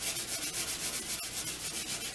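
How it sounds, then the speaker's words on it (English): Dry cleaning powder is scrubbed hard into hard-water stains in a toilet bowl, a close, loud, rapid back-and-forth scouring rhythm with no voices. "you start scrubbing where all the stains are with the dry powder"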